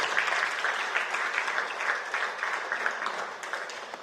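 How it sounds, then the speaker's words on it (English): A crowd claps steadily for about four seconds, warm and dense with no pauses, as the Honourable Minister of Planning and Economic Development is welcomed at a formal gathering. "Can we give her a round of applause?"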